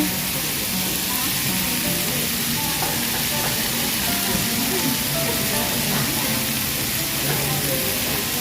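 Shrimp dropped into a hot pan set off a loud, continuous, close sizzle and crackle that stays dense and even across the whole stretch, with no talking over it.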